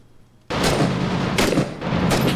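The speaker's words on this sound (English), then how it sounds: "There should be very little reverb on that gunshot." Gunfire in the Six Days in Fallujah close-quarters combat video game, a sudden loud burst of rapid shots after brief quiet, with further volleys pulsing through the next two seconds.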